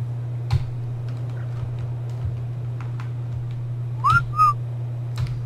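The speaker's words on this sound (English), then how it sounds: "I think I whistled. I definitely whistled." A character whistles in Ark Survival, a short two-note whistle over a steady low hum and scattered soft ticks.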